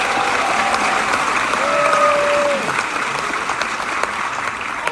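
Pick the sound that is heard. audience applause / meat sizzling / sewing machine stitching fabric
audience applause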